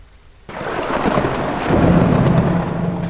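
Thunder and heavy rain burst in abruptly after a brief quiet moment, a loud, deep rumble rolling over a dense, steady downpour that swells slightly louder toward the end, with no voices.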